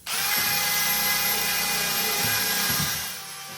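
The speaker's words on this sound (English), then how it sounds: "He's getting up in there where it's hard to get with a wire brush" Power tool spinning a wire brush under the dash of a Porsche 911 interior, a continuous high whining buzz with gritty scraping as it works, loud and close, easing off slightly at the end, no talking.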